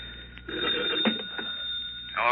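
An old telephone bell rings repeatedly in a 1940s radio drama, tinny and narrow-band, sounding steadily across the whole stretch with no voices over it.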